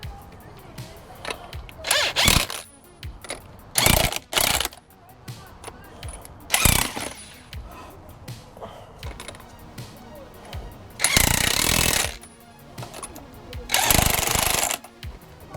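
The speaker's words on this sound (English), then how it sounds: "I'm just going to use the impact to get them in there" An impact wrench runs in several loud bursts of rapid hammering, each lasting under a second to about a second, as it tightens lug nuts on EMPI 4-lug to 5-lug wheel adapters on a 1968 VW Baja Bug. Someone speaks briefly between bursts.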